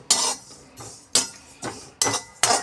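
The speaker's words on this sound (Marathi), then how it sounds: "आता कढई गरम आहे ना तेवढ्या ह्याच्यावरती हे परतत राहते" Roasted cumin being stirred in a hot kadhai with the gas turned off produces about five sharp metallic scrapes and clinks of a spoon against the pan, spaced at irregular intervals, each followed by a short gritty rustle.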